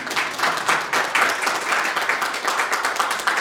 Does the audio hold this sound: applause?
yes